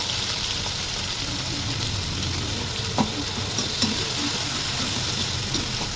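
Onion with ginger garlic paste frying in a pan, a steady close sizzle throughout with faint scraping and stirring clicks, no voices.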